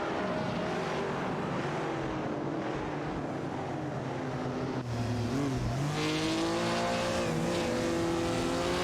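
Simulated race cars, including a Shelby GT350, roar through an online racing game, several engines whining and shifting pitch as they rev and overtake, a continuous loud layered drone of close competing cars.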